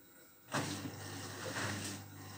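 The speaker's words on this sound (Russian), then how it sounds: "Вот запустился мотор." An Electrolux EWF1276GDW 7 kg, 1200 rpm front-loading washing machine's brushless inverter motor starts up after a quiet moment, settling into a steady low hum with soft swishing and faint tumbling noise, close by and without voices.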